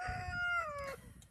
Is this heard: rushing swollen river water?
no